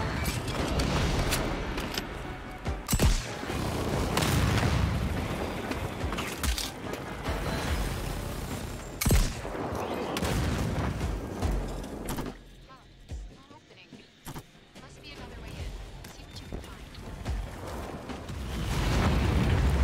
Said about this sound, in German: Alter, was für eine Explosion.